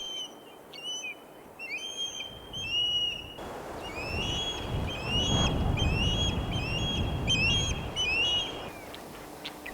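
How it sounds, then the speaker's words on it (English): A juvenile osprey in Yellowstone gives repeated high, thin begging calls for food, sounding in quick bursts throughout, fairly clear over a steady low outdoor rumble of wind or water. "This is a juvenile osprey calling for food"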